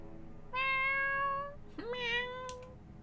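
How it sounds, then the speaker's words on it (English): A black cat in the visual novel game Fatal Twelve meows twice in close succession, a clear, drawn-out, fairly close mew followed by a shorter rising one, over a quiet background. "I notice a gorgeous black cat sleeping on my bed"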